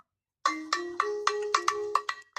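The African tone ringtone on an Infinix Smart 10 phone plays a run of about eight bright, bell-like struck notes in a quick, even rhythm, clear and alone after a short silence.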